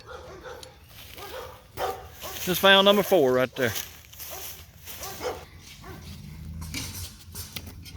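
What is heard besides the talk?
dogs barking near a cemetery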